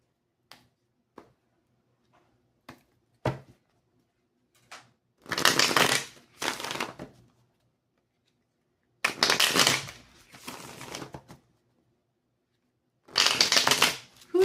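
Oracle cards being shuffled by hand, quick crisp riffles and taps at first, then three longer bursts of brisk, close shuffling separated by quiet pauses.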